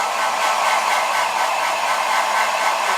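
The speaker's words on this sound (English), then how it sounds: "I will dry him with the towel and dry him with the blower at the same time" A hair dryer blows in a loud, steady whoosh with no pauses, drying a cat after its bath.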